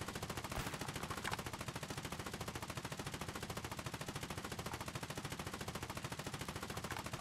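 Rapid, evenly spaced automatic gunfire in the war game Foxhole, a long steady stream of quick shots heard at a distance and fairly faint, without any talking.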